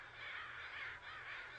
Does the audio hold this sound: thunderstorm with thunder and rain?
no